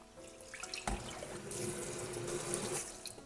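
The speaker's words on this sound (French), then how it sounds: "Et je lave. Je mets de l'eau." Tap water runs into a sink as Japanese rice is rinsed in a bowl, a steady close splash and trickle that continues throughout with no talk.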